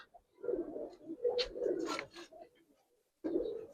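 Pigeons coo in a low, throaty rumble, several phrases running back to back close to the microphone, with a brief pause before another coo starts.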